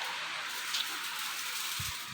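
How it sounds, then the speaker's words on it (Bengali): Heavy rain pours steadily outdoors near a home kitchen where onions are frying, a constant dense hiss with no break, and a brief low thump near the end. "দেখো কি মারাত্মক হারে বৃষ্টি হচ্ছে।"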